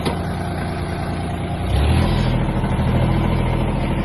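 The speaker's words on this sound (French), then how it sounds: "Facile de conduire un tracteur." A tractor engine runs nearby, a steady diesel rumble that swells louder and deeper midway as it works harder, towing a trailer, with no talk.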